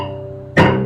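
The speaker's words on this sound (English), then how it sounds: "try and make that gritty sound." A held cello tone is cut by one sudden scratchy, percussive chop bow stroke played near the bridge, with a gritty, noisy attack, close up.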